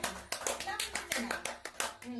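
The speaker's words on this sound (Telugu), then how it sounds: "క్లాప్స్ ఇవ్వండి రమ్య" Several children clapping in a classroom, quick uneven claps close by, mixed with a voice talking.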